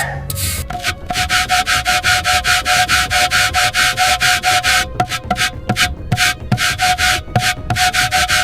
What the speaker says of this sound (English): Trying to get all this loose rust off.